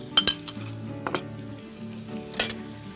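Minced garlic and shallots sizzle steadily in frothy butter in a pan for barley risotto, with a few sharp utensil clinks and stirring scrapes over the continuous frying hiss.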